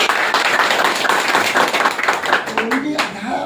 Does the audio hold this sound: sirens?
no